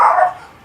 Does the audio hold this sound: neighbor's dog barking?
yes